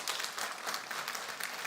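A church congregation applauds, a dense steady wash of clapping from many hands, moderately distant and continuous throughout.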